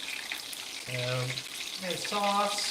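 Gyoza dumplings frying in a pan for a late-night snack, a continuous sizzle and crackle running under a voice that speaks briefly.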